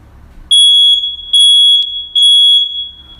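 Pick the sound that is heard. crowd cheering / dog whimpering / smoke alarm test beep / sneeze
smoke alarm test beep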